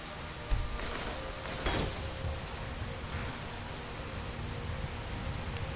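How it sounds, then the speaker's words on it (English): Rain in the Skyrim video game on the open plains, a steady hiss of falling rain with faint patters and a few soft rumbles, continuous and even throughout. "Nothing quite as annoying as sleeping in the rain and getting wet."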